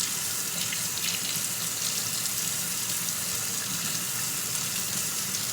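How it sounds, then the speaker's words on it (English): Water runs steadily from a kitchen tap while a spoon and a hand mixing tool are rinsed after making Oreo-flavoured cupcakes, a close, even hiss and splash that continues without pause and with no talking. "So now we're going to go ahead and rinse the spoon off and rinse our mixing hand tool off."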